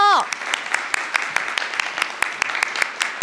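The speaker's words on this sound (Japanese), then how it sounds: "どうぞ大きな拍手でお迎えください。" A lecture audience claps to welcome a medical school professor onto the stage, a loud sustained round of many hands with distinct sharp claps standing out, after a brief tail of amplified speech at the start.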